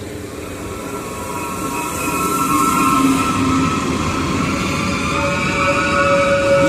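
A Turkish State Railways train rolls into Selçuk station with a loud, steady rumble of wheels on track, rising slightly, with faint metallic squeals and hum over the noise.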